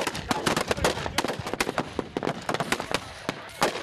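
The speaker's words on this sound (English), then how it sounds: "But rocket fire brings his charge to an end." Rocket fire striking a suicide bomber's bulletproof vehicle as it speeds toward Kurdish fighters in central Syria, heard as a rapid, dense burst of sharp cracks and blasts over several seconds, loud and close.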